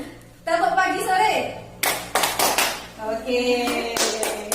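A classroom of students performs a clapping rhythm game, sharp bursts of group handclaps in short patterned sets while a teacher's voice speaks between them.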